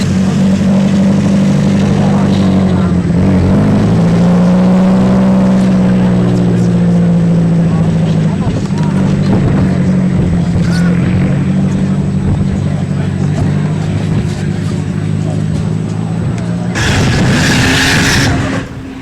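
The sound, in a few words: 1989 Nissan Safiro drift car engine revving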